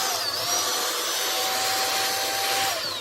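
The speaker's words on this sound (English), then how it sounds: "I'm just going to do the vacuum first." A Shark VACMOP Pro cordless vacuum mop runs continuously with a loud, steady motor whine and airy rush, close by and unbroken throughout, with no speech.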